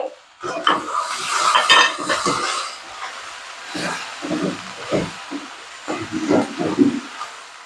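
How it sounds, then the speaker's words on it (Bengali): Sliced onion frying in a pan of oil from fried fish, with clattering pan and spatula sounds over a steady sizzle, the stirring coming in irregular bursts. "এই পেঁয়াজটা আমি এবার ভেজে নেব আগে"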